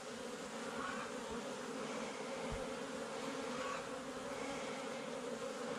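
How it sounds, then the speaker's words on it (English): Honeybees buzz steadily around an open beehive during hive work, a dense continuous drone of many insects close by that holds without a break. "let me brush the bees off of it"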